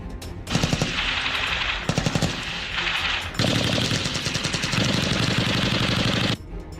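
Machine guns and heavy weapons fire in long, rapid bursts during a military cadet field exercise at Hathazari, Chattogram, loud and continuous with short breaks between volleys.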